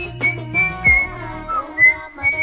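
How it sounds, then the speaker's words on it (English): A person whistles a bright, clear melodic song intro, several short sustained notes over backing music, close and prominent. "The iconic whistle and whistle wasn't a sound effect."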